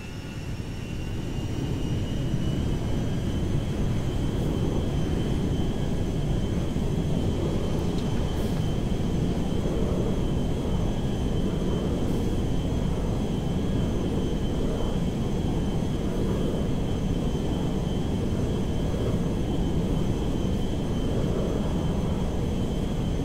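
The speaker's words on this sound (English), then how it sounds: "you are clear for takeoff" An airplane in the video game GTA 5 holds a steady, loud engine roar as it takes off, a constant broadband rumble with a faint high whine.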